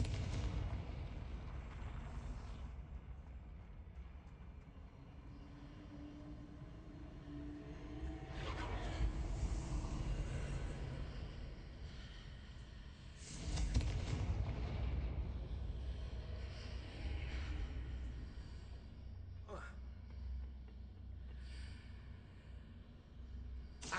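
A Confringo spell bursts in a Harry Potter video game, rumbling, booming explosion sounds that swell around the middle and hit hardest midway, over a low continuous game backdrop.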